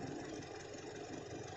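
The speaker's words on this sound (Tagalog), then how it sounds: "Ang laki ng palag na makina mo" Toyota Innova with a 1TR engine idling with a misfire, a steady close rumble with an uneven, slightly lumpy beat running throughout, no voices.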